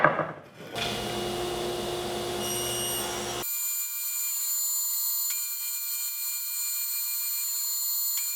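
A power tool cuts grooves and a base out of wood in a workshop: a short rough start, then a loud steady whining cut, and finally a high, tonal spin-down or idle, all close and continuous with no talking.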